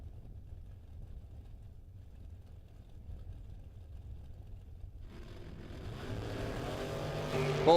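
Drag race cars, one a ragtop Camaro, launching off the line: a low engine rumble builds and then swells into a loud rising roar toward the end, with no talking.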